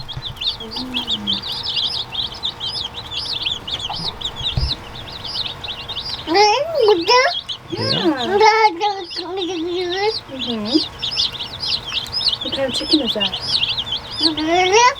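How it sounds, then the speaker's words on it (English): Baby chicks cluck and chirp nearby in a busy run of calls, with a person speaking over them partway through. "See the chickens?"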